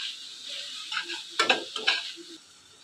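Vegetables tipped into a pan of frying chicken over low heat hiss steadily, and a spoon scrapes and stirs through a few clattering strokes in the middle. Heard close up, with no talking.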